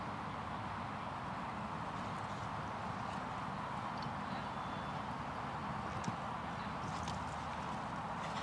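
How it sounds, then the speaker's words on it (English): Horse galloping around a 1.40m show jumping course at an FEI five-star premier equestrian event, a steady muffled drum of hoofbeats under constant arena ambience, distant rather than close. "Aaron keeps the gallop, allows the horse to find its way back off the jump"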